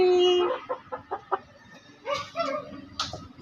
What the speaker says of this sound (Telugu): కోడి